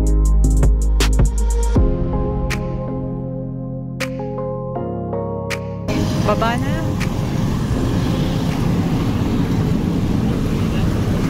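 Engine drone and water wash aboard a Chao Phraya tourist hop-on hop-off boat on the river in Bangkok, starting after a brief burst of other sound and settling into a steady, loud rumble with wind across the microphone.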